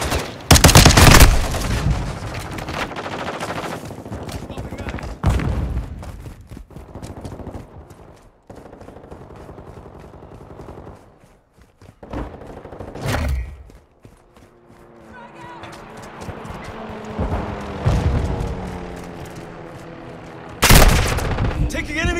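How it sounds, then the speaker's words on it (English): Bursts of automatic gunfire and single shots in a Call of Duty Modern Warfare II team deathmatch, loud and close, with booming impacts and quieter stretches in between, under game voice callouts. "Taking enemy fire!"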